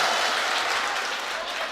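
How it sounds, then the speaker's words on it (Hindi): Audience at a mushaira, an Urdu poetry gathering, breaks into loud applause, a thick continuous roar of clapping that holds steady throughout. "एक बार जोरदार तालियां बजाइए"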